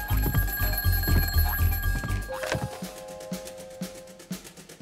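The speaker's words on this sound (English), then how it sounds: "Then the phone rang." A telephone bell rings in a rapid trilling burst, followed by a second, thinner electronic ring pattern, fairly close and with no voices over it.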